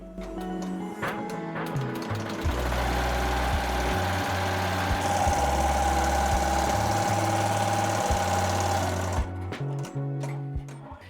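An embroidery machine stitches continuously, loud and close, with a steady mechanical hum and rapid rhythmic needle knocking; the motor pitch shifts midway, and the machine is behaving oddly after a thread tangle.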